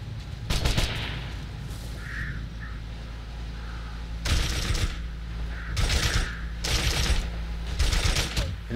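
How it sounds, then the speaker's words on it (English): Repeated bursts of rapid gunfire in a military simulator video game at varying distances, several loud volleys spaced a second or two apart over a low rumbling background. "Enemy gunfire is on here."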